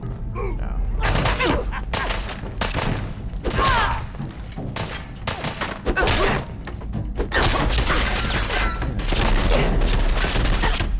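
Bursts of gunfire from the video game Fallout 4 come in repeated rapid volleys of sharp cracks and heavy thuds, loud and close, with short gaps between clusters and faint talk mixed in.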